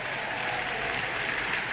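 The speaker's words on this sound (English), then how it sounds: "Give him a huge round of applause." A large audience at a TED-style talk gives a guest named Brett a steady, dense round of applause that fills the room throughout, with no voices heard.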